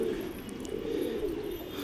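Several kept pigeons coo together in a dense, low rolling drone, steady and close throughout the brief moment, with no voices.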